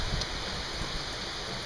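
Heavy rain pouring steadily outdoors after a long dry spell, a dense, even hiss of falling water with no breaks, moderately loud and close, without any voices.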